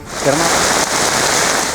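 Dense, loud rain roars steadily throughout during a storm with strong winds, a continuous wash of hissing noise with a brief voice-like sound near the start.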